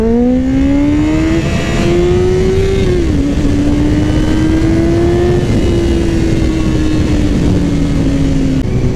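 A motorcycle engine drones loud and steady through a continuous ride, its pitch rising and falling slightly as the throttle shifts, with wind rush under it and no talk.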